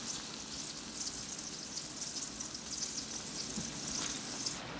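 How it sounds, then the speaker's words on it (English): Steak sears in a hot skillet over medium-high heat, a steady, even sizzle and crackle of frying meat that continues throughout at moderate level, with no voices. "So I've got my skillet on medium-high heat. So I get it hot enough so I can sear up and brown up both sides of the steak."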